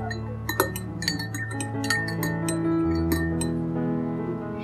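A spoon stirs an apple cider vinegar mixture in a drinking glass, giving a run of bright, irregular clinks against the glass over a low steady hum, close and fairly clear.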